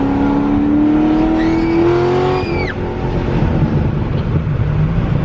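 Dodge Hellcat engine revving hard, a loud rising pitch that climbs for a couple of seconds and then drops off abruptly, with someone speaking briefly over the sound.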